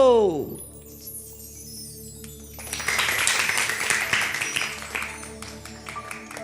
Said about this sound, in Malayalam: നല്ല വെടിക്കെട്ട് ക്ലാപ്പ്